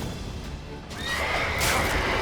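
A horse whinnies loudly in The Witcher 3: Wild Hunt against a constant background rumble, the neigh rising and trailing off over a couple of seconds.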